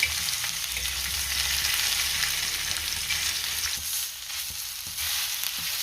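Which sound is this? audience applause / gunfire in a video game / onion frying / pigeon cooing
onion frying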